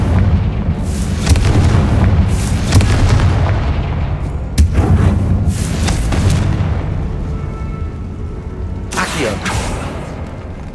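Confringo fire spells in the Hogwarts Legacy video game set off a rapid run of loud, booming explosive blasts that crackle and roll, with several sharp bursts standing out among them.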